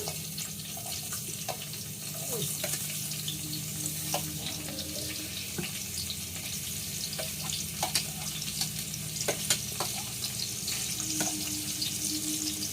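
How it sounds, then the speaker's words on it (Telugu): Chopped onions and green chilies sizzling in hot oil in a pan, a steady crackling fry with occasional stirring clinks and scrapes, close by. "ఇప్పుడు ఈ ఉల్లిపాయలు, పచ్చిమిరపకాయలు వేసేస్తున్నాను ఫ్రెండ్స్ దీంట్లో."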